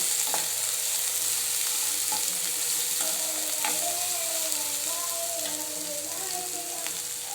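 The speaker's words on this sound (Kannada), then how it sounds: "ಇದು ಫ್ಲವರ್ ಹುರ್ಕೋಕತ್ತೀನಿ ರೀ" Cauliflower pieces sizzle and crackle steadily in hot oil, with occasional scraping stirs and clinks of a utensil against the pan, close and continuous.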